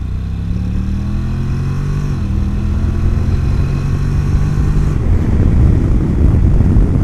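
A 2019 Honda NC750X DCT motorcycle gives a loud, steady exhaust drone on a test ride, with its pitch stepping down as the dual-clutch gearbox shifts, then rising into a rougher, louder roar as the throttle opens.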